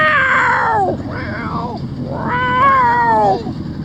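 A man on a fishing boat on Lake Pontchartrain, near the trestles, imitates a cat's meow, giving two loud, close drawn-out meows with falling and rising pitch.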